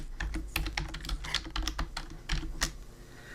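Rapid typing on a computer keyboard while entering button text for a WordPress website, a close, quick run of light key clicks with uneven rhythm and no talk.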